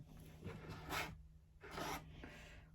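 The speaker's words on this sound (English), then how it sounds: "Oh, we are stripping some paint." Scraper rasping stripped paint off a wooden buffet in two short, close strokes, with soft rubbing between them.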